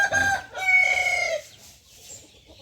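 Chickens call close by, with a long, drawn-out crowing squawk followed by softer clucks trailing off into quiet background noise.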